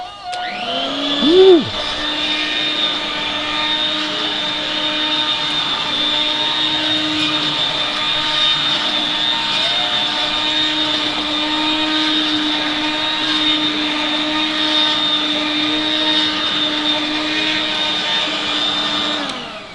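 Regina Electrikbroom two-speed electric broom runs on its low setting with a steady whining motor hum throughout, close and loud, with a brief vocal exclamation near the start.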